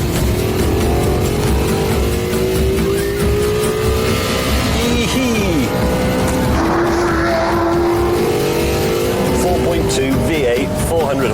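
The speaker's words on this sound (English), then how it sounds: "You can tell this is meant to be a sports car because of the engine." A 2005 Maserati Quattroporte's 400-horsepower engine revs hard while driving, loud and close, with rising and falling tones through gear changes. Someone talks over the engine sound.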